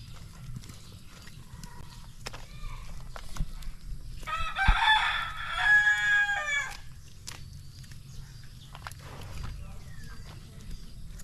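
A rooster crows once, loud and drawn-out, in the middle of a rural Quezon Province yard, while chickens cluck faintly around it and soft background noise and scattered knocks fill the rest.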